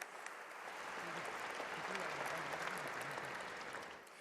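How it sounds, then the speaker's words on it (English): Audience applause for dignitaries at the opening ceremony of the International Film Festival of India in Goa, a fairly faint, even wash of clapping that swells and then eases off, with a low voice murmuring underneath. "A big round of applause for all our dignitaries"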